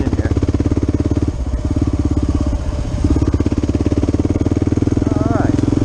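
Kawasaki KLR 650 motorcycle riding a trail through pine forest, its engine thumping steadily and loudly throughout with a rider talking over it.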